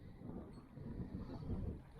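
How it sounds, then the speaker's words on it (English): Wind blowing outdoors over the water of Hays Inlet during a flathead fishing trip, a steady low rumbling buffet against the microphone that swells and eases without a break, with no voices. "Bit windy"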